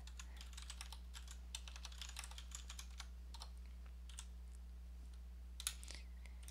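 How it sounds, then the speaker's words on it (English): A password is typed on a computer keyboard as a run of quick, faint key clicks in short irregular bursts over a steady low hum. "I'm going to type my password."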